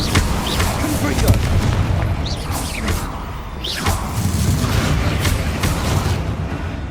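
Confringo blasting spells from Hogwarts Legacy on PS5 crack out as repeated booming blasts with whooshing streaks, dense and loud throughout, layered with a voice calling spells.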